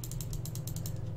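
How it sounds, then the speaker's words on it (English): A screwdriver loosening a fitting in the video game Killer Escape gives a steady, quiet ratcheting click that repeats rapidly and evenly over a low hum. "Can I loosen it with a screwdriver?"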